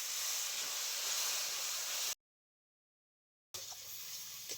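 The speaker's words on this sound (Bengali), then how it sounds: "দিয়ে দিচ্ছি অল্প জল" Ground chili, turmeric, cumin and coriander frying in a pan after a little water is added, giving a loud steady hiss and sizzle. It cuts to silence midway, then the quieter frying resumes with faint stirring.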